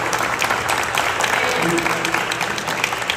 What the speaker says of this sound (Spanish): Un aplauso para el equipo.